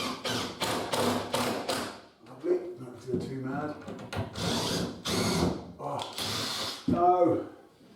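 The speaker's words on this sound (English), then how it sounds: "Now I can just put those screws in." Screws are driven into a kitchen unit being fitted around a boiler, with short repeated bursts of a power driver close by, between which someone talks.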